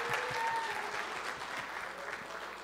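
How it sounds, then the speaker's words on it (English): An audience at a Christmas program applauds the Salvation Army ringer, a steady wash of clapping that holds through the whole stretch, moderately distant, with faint voices underneath. "let's give another applause to the Salvation Army ringer"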